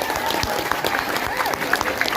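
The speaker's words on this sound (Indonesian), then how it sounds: "Tepuk tangan dulu anak MTS" Madrasah students clap at an Isra Miraj lecture, a brief burst of crowd applause filling the room with steady close patter, while voices sound faintly underneath.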